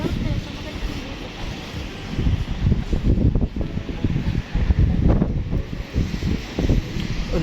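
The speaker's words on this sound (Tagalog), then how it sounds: "Lakas pa ng hangin." Strong wind buffets the microphone outdoors on a Tokyo street, a steady low roar with gusts swelling louder midway, close and continuous.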